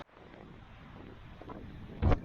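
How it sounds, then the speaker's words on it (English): Wind blowing across a microphone on an exposed mountain peak in the Aldo Leopold Wilderness, a steady broadband rush that builds slightly and ends in a louder, close buffeting gust. "It's windy."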